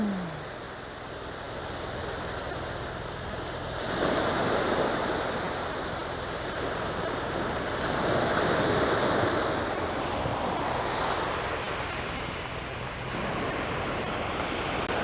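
Sea waves roll in with the rising tide at Byeonsan beach, a steady broadband wash of surf that swells louder in surges every few seconds, with no voices.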